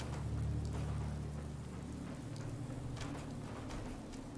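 Steady rain hisses through the Fallout 4 game world, a dense even wash of falling water over a low droning hum, with a few sharper drop patters and no talking.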